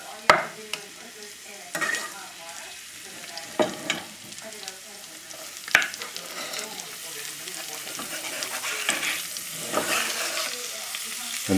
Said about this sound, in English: vegetables in here, sweat them up